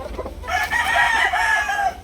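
A three-year-old backyard rooster crows once, close and loud, in a single sustained call after a short cluck.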